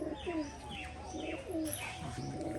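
A female pigeon in a cage gives repeated soft, close coos in a rhythmic pattern, with a faint chirp mixed in and no voices over it.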